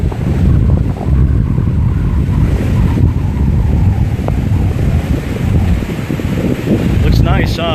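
Surf and gusting wind at Clearwater Beach the day after Hurricane Irma, with rushing waves and heavy microphone wind buffeting throughout.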